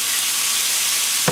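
Fried rice with soy sauce sizzling in a T-fal non-stick pan, a loud, steady, close hiss throughout, ending in a brief knock of a utensil.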